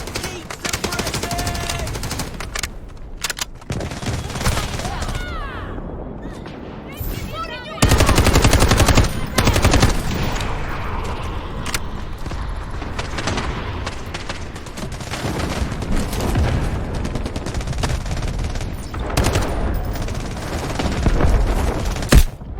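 Rapid gunfire bursts in the shooter game Delta Force during a ranked match, loud and dense with sharp volleys and automatic fire, with a few quieter gaps and brief voice chatter in places.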